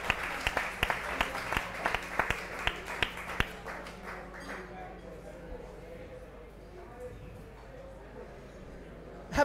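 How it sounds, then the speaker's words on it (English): Audience claps during a charity chef cooking showdown, with sharp claps in a steady rhythm for about four seconds before thinning out under background murmur. "let's all give it up for a round of applause"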